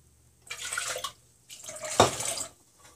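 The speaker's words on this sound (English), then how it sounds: "And you just add water." Water poured into a container while making vegan horchata, two splashing bursts of pouring with a short pause between, fairly close and alone.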